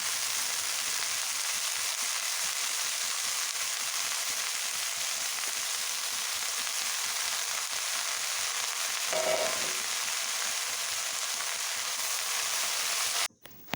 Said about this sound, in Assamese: মাছখিনি ফ্ৰাই হয় মানে মৰিচা শাক ভাজোঁ ইফালে এইটো কেৰাহীত